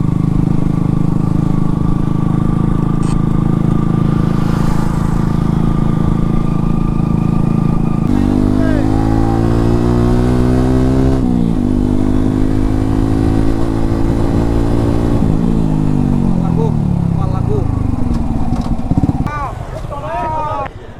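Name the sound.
motorcycles approaching and passing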